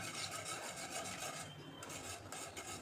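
A spatula stirs semolina (rava) papad batter in a pan on a raised flame, making a continuous close scraping and rasping that never stops.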